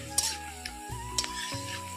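White mustard paste fries in a pan with ground cumin, turmeric and chili powder, giving a brief low sizzle broken by a few sharp stirring clicks against the pan.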